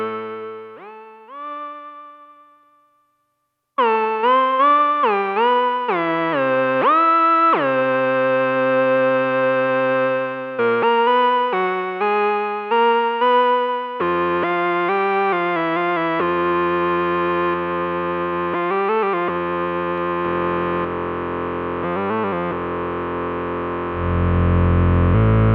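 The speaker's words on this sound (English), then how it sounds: "And again, you can have some reverb if you want." A Cherry Audio Novachord soft synth plays a series of sustained and gliding notes and chords drenched in reverb, loud and clear, with a hazy wash of reverb tail toward the end.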